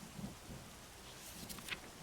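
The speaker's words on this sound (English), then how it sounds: "The thunderstorm continued throughout the night, with rain pounding against the manor's windows and wind howling down the chimneys." Rain falls in a soft, steady wash while low thunder rumbles faintly underneath, a quiet storm with a few brighter drop spatters and no voices.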